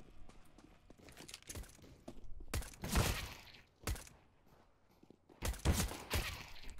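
Gunshots in CS:GO: several sharp bursts of cracking fire in separate clusters, the loudest near the middle and end, with quieter footsteps and rustle between them and no talk.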